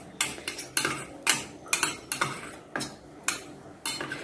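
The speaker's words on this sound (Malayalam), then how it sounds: "തൈര് നമുക്ക് നന്നായിട്ടൊന്ന് മിക്സ് ചെയ്യാം" A spoon mixing curd in a bowl, a quick irregular series of sharp clinks and scrapes against the bowl, close and alone without talk.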